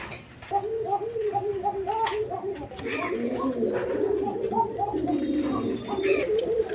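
Rasgolla pigeons cooing at a pigeon farm, several birds giving repeated soft, rhythmic coos close by, with a speaking voice running underneath.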